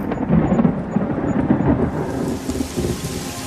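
Steady rain with rolling thunder on a wet day, the rumble strongest early and easing as the downpour hiss continues, loud and close with no voices.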